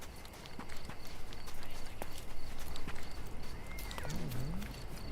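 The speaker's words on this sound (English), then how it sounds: "Horsey." Horse hooves clip-clop in the video game Sherlock Holmes Chapter One. A steady run of hoofbeats sits in a busy game mix with ambient sound and a faint whinny near the end.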